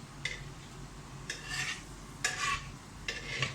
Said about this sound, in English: Just let the spices splutter a bit.